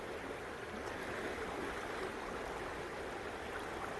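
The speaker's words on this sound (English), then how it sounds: "this is normal, actual normal water flow for this time of the year in the Yakima" Fast, cold Yakima River running bank to bank in midsummer, a steady close rush of flowing water with constant broadband hiss and no breaks, alone without voices.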